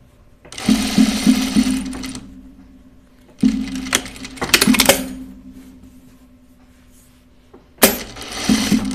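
Sewing machine stitching a shirtdress in three bursts: a first run of about two seconds, a second run with a short pause partway through, and a brief final start. Each burst is loud and close, with a steady hum and rapid needle clatter and no talking.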